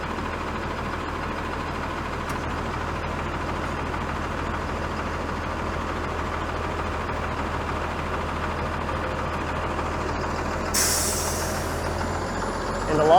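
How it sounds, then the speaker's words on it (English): A 32 Eglinton West city bus on a Toronto street torn up by LRT construction rumbles steadily close by, engine droning under constant traffic noise, with a sharp hiss of air brakes near the end. "this in front of me is the 32 Eglinton West bus"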